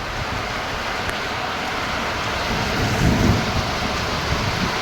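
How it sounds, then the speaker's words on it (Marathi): Unseasonal heavy rain pours down in a dense, constant hiss, with a deep roll of thunder rumbling partway through. "पाऊस बघा मंडळी एकदम तुफान"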